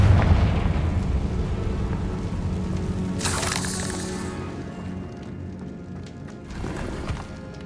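A Confringo spell explosion in the video game Hogwarts Legacy: a loud burst with a crackling tail lands midway, over a steady rumbling game backdrop, with a fainter second pop near the end.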